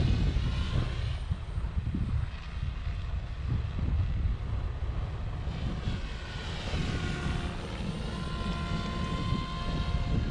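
An OMPHOBBY M4 MAX RC helicopter flies steadily throughout, a continuous rotor and motor whine with faint harmonic tones drifting in pitch, mixed with wind noise on the microphone and no talking.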